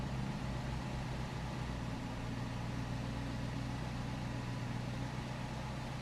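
A V8 Dodge Charger idles with a steady low rumble and a constant hum, its pitch barely wavering.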